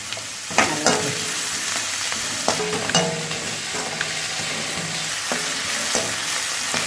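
Onions and green chillies fry in a pan for idli upma, crackling in a steady sizzle up close, with scattered clinks and scrapes from stirring and no talking.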